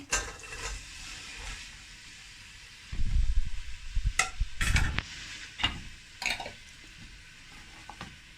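Onions hit hot oil in a pan for a capsicum chicken curry, setting off a quiet sizzle broken by bursts of clattering and stirring, with sharp utensil knocks near the end.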